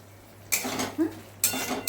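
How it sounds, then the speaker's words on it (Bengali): A pot lid lifted off a pan of mustard prawns (sorshe chingri), then a spoon scraping and stirring through the curry, with metallic clinks and scrapes that come close in short bursts and include a faint sizzle. "15 মিনিট বাদে ঢাকা খুলে নাড়িয়ে দিচ্ছি।"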